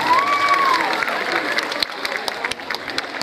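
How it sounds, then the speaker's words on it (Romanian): Audience applause welcoming a singer on stage at an interethnic concert, a burst of clapping and cheering that starts full, then thins and fades over a few seconds. "S-o întâlnim cu aplauze pe Corina Elena Badea"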